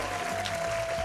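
A Polish crowd at a StarCraft 2 esports tournament in Katowice applauds in a steady, dense wash of clapping and cheering, continuous and fairly loud throughout.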